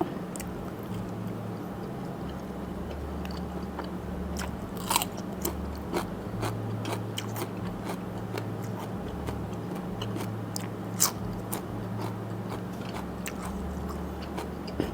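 Close, quiet crunchy chewing and biting of Thai fermented pork naem with crisp pork skin and fresh chili, with irregular sharp crunches over soft mouth sounds and no talk.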